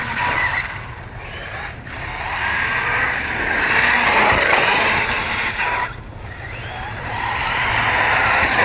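A Talion RC car driving over ramps, its high whining motor and repeated tire skids swelling and fading in loud sweeping passes, with a brief dip where it pulls away.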